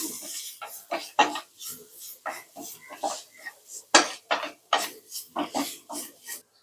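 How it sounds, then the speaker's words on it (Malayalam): Pepper powder, a pinch of turmeric and salt being mixed together in a dish, heard as a run of close, uneven scraping and clinking strokes with short pauses between them. "ഇതെല്ലാം ഒന്ന് മിക്സ് ചെയ്തെടുക്കാം"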